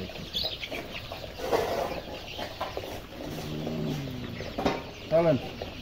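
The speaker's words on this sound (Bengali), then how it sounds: "মুরগি" Chickens cluck intermittently at moderate distance amid a busy poultry setting, with short calls rising over background murmur and occasional human voices.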